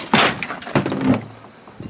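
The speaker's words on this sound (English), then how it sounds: "there's nothing like coming home and smashing windows out" Car window glass smashed out while stripping a car for a thrillshow demolition derby, with a sharp crack followed by a second burst of crunching, tinkling shards, loud and close, then fading debris.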